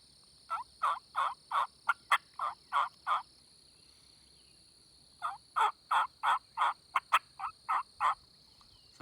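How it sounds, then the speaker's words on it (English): A wild turkey hen calls in two short bursts, sharp rhythmic yelps mixed with quick cutting notes, clear and moderately close against a quiet background. "she'd yelp a little bit and then cut some and then yelp, just a short series."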